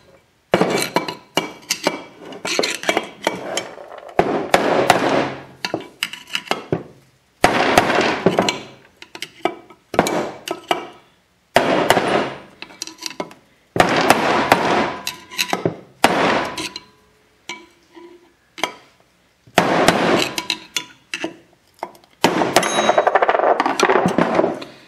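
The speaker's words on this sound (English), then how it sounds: "you're going to have to use the hammer and the screwdriver this time" Hammer driving a screwdriver to knock bearings out of a 2004 Maico 500 motorcycle: bursts of sharp metallic clanks and clinks in rapid strikes, separated by short pauses, close and loud.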